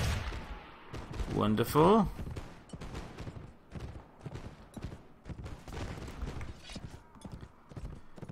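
Gunfire in the video game Mount & Blade: Fire and Sword shows as scattered sharp cracks amid a busy battlefield, with horse hooves clip-clopping and someone talking over much of it.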